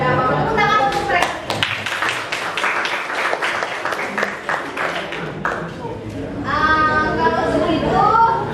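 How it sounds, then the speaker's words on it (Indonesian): Classroom students clapping for their classmates, a loud burst of irregular hand claps lasting several seconds, with a voice and a teacher speaking over the end. "Tepuk tangan untuk mereka."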